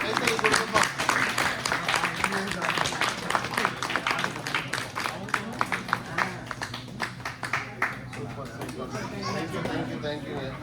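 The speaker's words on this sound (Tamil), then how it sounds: "நல்லா ஒரு கைத்தட்டல் கொடுப்போம்." Audience applause with dense clapping and crowd chatter at a Tamil cooking-star presentation event, loud and steady at first, then thinning into scattered claps and murmuring voices toward the end.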